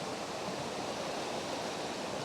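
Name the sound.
rushing water of the Kennall River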